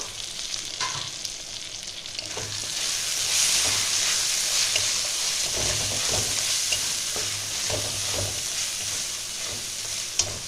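Chicken masala sautéed in oil with cumin powder and five or six chopped green chilies, a continuous close sizzle overlaid with repeated scraping and clanking of a spoon stirring the pan, no talking.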